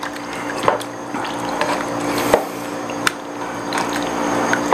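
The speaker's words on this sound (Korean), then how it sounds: "이제 이렇게 야채가 보글보글 끓기 시작하죠" Mixed vegetables simmering in a pot of water over high heat, giving a steady watery bubbling with a few soft splashes and drips, close and continuous, with no voices.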